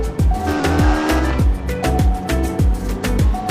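Car engine cold start in the video game Car Simulator 2, loud revving that rises and falls in repeated bursts, close and alone.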